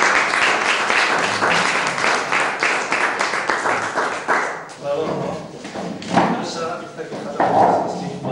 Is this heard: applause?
yes